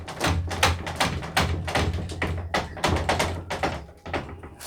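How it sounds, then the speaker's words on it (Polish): Repeated hard knocking and pounding on a door, a busy run of loud thuds and taps that keeps going for several seconds with no pause and fills the whole stretch. "ktoś się dobija do drzwi!"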